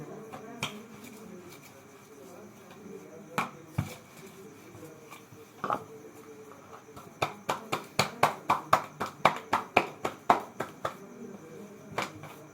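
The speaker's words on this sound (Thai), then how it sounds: "เสียงตบโรตีที่คุณเคยใช่ไหม" Roti dough is slapped by hand in a home kitchen, a series of sharp, sparse slaps that speed into a rapid, even run of claps before tapering off, close and distinct over a faint background.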